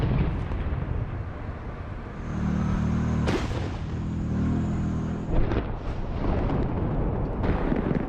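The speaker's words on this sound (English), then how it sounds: "The Russian tanks explode." Russian tanks exploding under Ukrainian tank fire in a real battlefield duel, heavy rumbling blasts and low booming impacts rolling continuously, with a sharp burst near the middle and more crackling detonations after.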